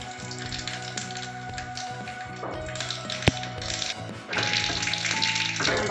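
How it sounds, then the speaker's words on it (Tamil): Mustard seeds drop into hot oil to temper a coconut chutney, giving a soft crackling sizzle that swells into a louder, busier frying hiss in the last couple of seconds, with one sharp tap midway. "இப்போ நம்ம கடுகு போட்டுக்கலாம்."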